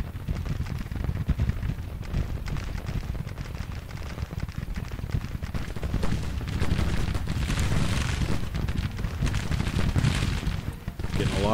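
Dense Civil War musket gunfire in the Grand Tactician battle game, a continuous crackling fusillade with booming volleys, loud throughout, under occasional talk.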